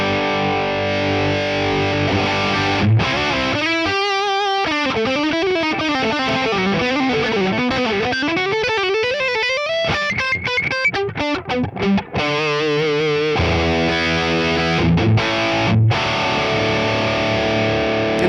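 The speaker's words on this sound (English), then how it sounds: "Amps sound really nice in here as well." Electric guitar played through a Two Notes Genome amp simulator with heavy distortion and effects, alternating chugging chords, sliding wavering lead lines and sustained notes, loud and with no talking.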